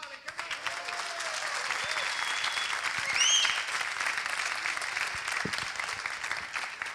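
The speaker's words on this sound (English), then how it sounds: "All right, a big applause for Miley." An audience applauds a mentor at a tech camp event with steady, sustained clapping from a crowd, a brief whistle or cheer rising in the middle, with faint voices underneath.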